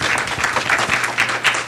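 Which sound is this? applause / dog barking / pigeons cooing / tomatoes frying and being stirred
applause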